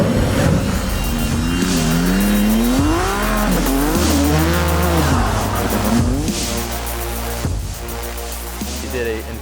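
The Nissan Altimaniac, a four-seat tube-chassis drift car, screams through sustained tire squeal with a wavering high engine note that rises and falls, loud and continuous throughout.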